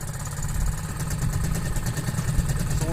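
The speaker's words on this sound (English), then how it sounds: "So when we first start the engine" An outboard motor engine running steadily after starting, a loud, continuous low rumble with a rapid mechanical patter and hissy upper noise throughout.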